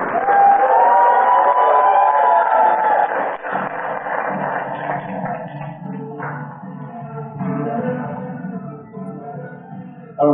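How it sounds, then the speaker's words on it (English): A comedy club audience at The Laugh Factory applauds and cheers comedian Patrick O'Hara, loud and dense at first, then settling into a lower, lingering crowd murmur. "I don't deserve all that applause,"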